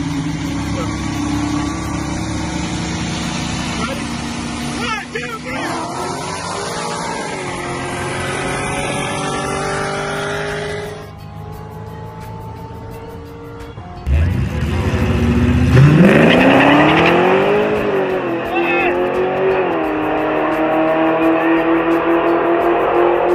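A supercharged SN95 Mustang Cobra with a built 408 stroker Windsor engine revs up and settles, with rising and falling engine pitch, then a sharp, louder blip of the throttle followed by a sustained high rev, close by.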